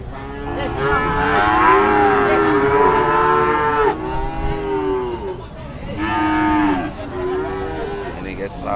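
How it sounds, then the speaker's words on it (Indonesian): Cows mooing at a cattle market where breeding heifers and calves are sold, several long, loud, close bellows in overlapping calls with short pauses between. "Ini sapinya guys,"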